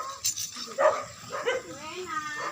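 Several dogs bark and whimper in short, overlapping bursts, close by, while people talk over them during an evening of Christmas caroling.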